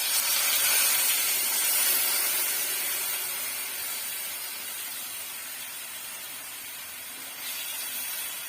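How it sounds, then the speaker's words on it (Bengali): Water poured into a pan of frying spice paste for a Bengali shapla flower dish sets off a loud, steady hiss of sizzling and steam that slowly eases, with a fresh surge near the end; no voices. "এখন আমি পরিমাণ মতো জল দিয়ে দেব।"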